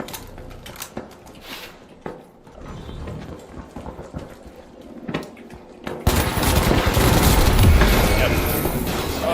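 AK rifle fire in the video game The Finals, a dense, loud burst of rapid shots that swells after a quieter stretch of scattered mechanical clicks and clatter.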